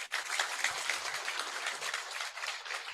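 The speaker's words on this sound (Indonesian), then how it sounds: "Tepuk tangan dong." An outdoor campaign crowd in Papua claps steadily, giving a continuous, fairly faint patter of many hands that runs the whole time without talk.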